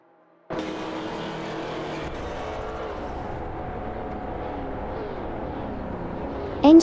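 Race car engines from a racing video game, including a Subaru Impreza 22B and a BMW Nazca C2, starting abruptly into a sustained, steady engine drone with shifting pitch, ending in a brief louder burst.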